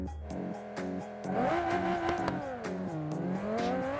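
A Scintilla sports car in BeamNG Drive's Corsa mode revs hard through rising and falling gear changes, the engine note climbing and shifting steadily, close and loud with no talk.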